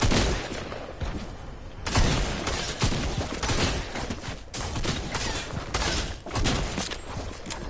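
Shotgun blasts in a battle royale video game, several loud booming shots among a dense mix of distant gunfire and game sounds, close and continuous.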